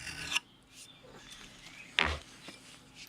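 File rasping along the edge of a True Temper Flint Edge double-bit axe, two distinct scraping strokes set apart by quieter handling noise.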